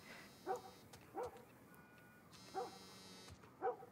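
A dog barks outside in The Last of Us video game, four separate muffled barks spaced unevenly and somewhat distant, with faint background ambience between them.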